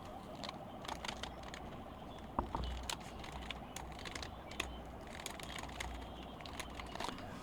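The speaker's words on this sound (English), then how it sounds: "So let's type in our question." Quiet, steady typing on a computer keyboard, a continuous patter of light key clicks with a few slightly louder taps, with no one speaking.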